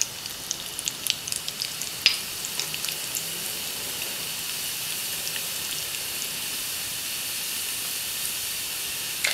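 Mustard seeds and cumin in hot oil for tomato rasam, a steady faint hiss with scattered sharp little pops early on that thin out, heard close with no voices.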